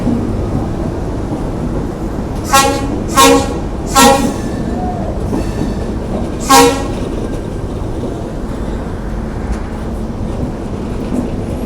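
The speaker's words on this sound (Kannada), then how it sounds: "ನೋಡ್ರಿ ನಮ್ಮ ಲೋಕೋಮೋಟಿವ್ ಟ್ರೈನ್ ಬಂದುಬಿಟ್ಟು" A WDG4 locomotive-hauled passenger train arrives at platform 8 of a busy station, with a continuous rumbling roar and several short rhythmic bursts of clanking as carriages pass close by.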